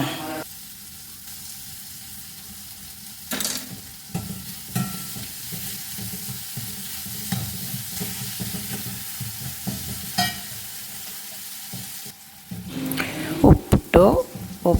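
Sliced onions, green chillies and curry leaves fry in a pan with a soft, continuous sizzle. Brief scraping stir strokes break through at intervals, and louder clattering stirring comes near the end.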